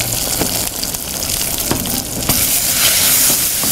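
Chopped onion sizzles loudly in hot tempering oil in a pan, a dense, continuous crackling hiss with a few stirring knocks, close up.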